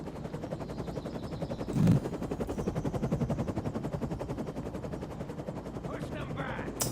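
Rapid, sustained automatic fire from an assault rifle and a high-powered LMG in the Defiance 2050 video game, a steady chattering stream of shots with a louder burst early on, under game noise and occasional voices.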